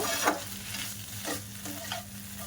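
A spoon stirs potato filling with tomato sauce in a frying pan for potato patties: a soft sizzle runs underneath and three distinct scraping sweeps sound up close.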